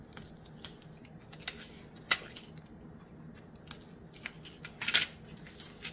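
Crafting with double-sided tape on a greeting card makes scattered crisp clicks, peels and light taps close by in a quiet room, with no voices.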